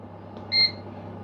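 One short, bright electronic beep as an appliance timer is set for one hour at 200 degrees, over a faint steady background hum.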